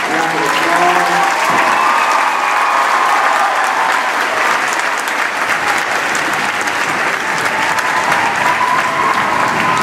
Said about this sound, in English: So can we give them a huge round of applause?